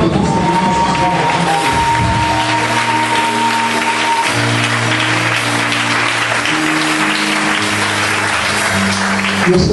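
A church congregation applauds during a worship service, dense sustained clapping filling the space throughout, with sustained musical tones ringing underneath.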